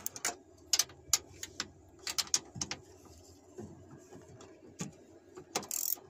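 A hand ratchet clicks in short, quick bursts while removing the tow mirror bolts on a 2013 Silverado Z71, the sharp metallic ticks close and separated by brief pauses.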